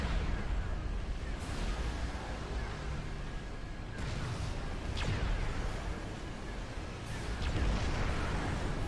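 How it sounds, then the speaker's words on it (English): Artillery barrage in the strategy game Supreme Commander, with several distant booming shots landing over a steady dense rumble of battle noise. "You see them taking fire from those artillery pieces."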